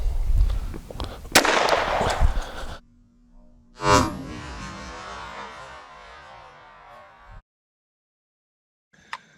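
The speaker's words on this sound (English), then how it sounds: "I'm gonna fire 2 rounds into the gel block of each." A .32 ACP pistol fired into a clear ballistic gel block gives a sharp crack with a rough burst, then a second loud report near four seconds that rings and decays into silence.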